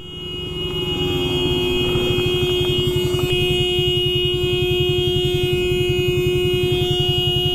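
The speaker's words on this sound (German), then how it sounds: "So lange hupen, bis die Person sich aufregt" A Yamaha Aerox scooter's horn blares in one long, sustained, unbroken tone, loud and close, with a buzzing engine beneath it.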